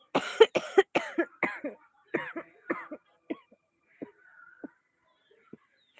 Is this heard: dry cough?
yes